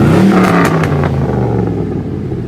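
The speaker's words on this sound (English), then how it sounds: "it's got a full exhaust system on it with Flowmaster muffler" A lifted 2004 Chevrolet Silverado 1500 Z71 with a full exhaust system and Flowmaster muffler revs loudly and close up, a deep roaring engine note that holds strong and then eases slightly, with no talking.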